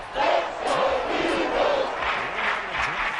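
A football stadium crowd roars during an Eagles versus Commanders game, a dense, loud, sustained wall of cheering and yelling with swelling peaks, heard from within the stands.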